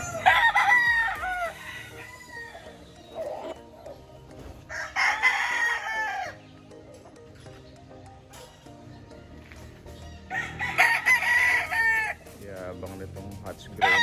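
A Hatch Gray gamefowl rooster on a gamefarm crows three times with loud, close calls, separated by quieter stretches of background farm noise.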